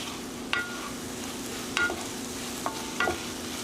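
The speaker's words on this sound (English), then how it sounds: "we'll give it one more stir" A utensil stirring and scraping Korean-style meat frying in a pan, with a steady low sizzle and four distinct scraping strokes at irregular intervals, close by with no talk.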